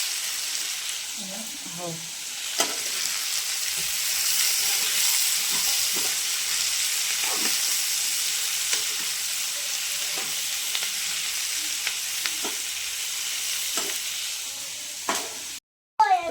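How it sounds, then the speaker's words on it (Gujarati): Onion roasts on a flat griddle pan, heard as a steady, close frying sizzle and hiss throughout, with scattered clinks and scraping, a short spoken word near the start and an abrupt cutoff at the end. "હવે ડુંગળી શેકવાનું ચાલુ કરી દો"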